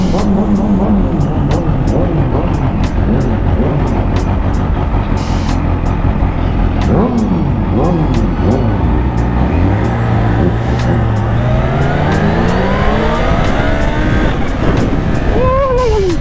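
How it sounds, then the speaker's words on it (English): Continuous loud road noise from vehicles rumbling close by, heard from a 2019 Kawasaki supercharged hypersport motorcycle, with engine tones rising and falling as traffic moves and an occasional brake hiss. "Watch the car behind you."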